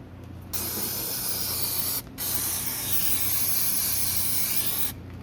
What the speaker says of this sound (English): So we're gonna wash that all down nice